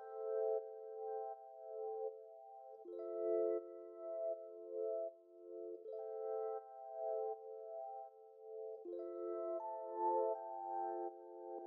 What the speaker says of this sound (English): I use this Moments by Moment like Rhodes electric piano.